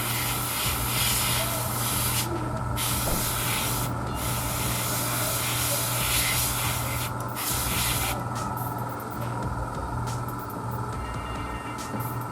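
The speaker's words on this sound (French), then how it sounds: "ton petit aérographe. Pour plusieurs voiles fins, on en passe un peu partout, un peu sur tous les angles." An airbrush sprays thin coats of paint onto a 1/35 scale Meng model kit of a Smerch rocket launcher, giving a steady close hiss broken by a few brief pauses.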